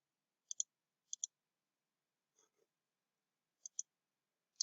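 Computer mouse clicks, sharp and close in quick pairs like double clicks, spaced apart with quiet gaps and a faint rustle in the middle.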